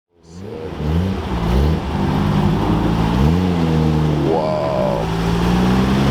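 A right-hand-drive Nissan Skyline GT-R R34 with an RB28 engine revs loudly and close by at a large Porsche car meet. A deep engine drone rises and falls through several throttle swells, with faint background voices.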